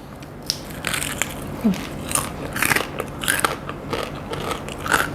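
Loud crunchy bites and chewing of crispy pork belly up close, a series of crisp cracks and crunches with no talking over them.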